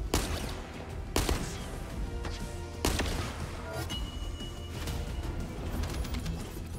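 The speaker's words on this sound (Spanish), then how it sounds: "Tres disparos, demasiados." Gunfire in the video game The First Descendant: three sharp, loud shots at roughly even intervals over a continuous low rumble of game ambience, with quieter crackles and impacts in between.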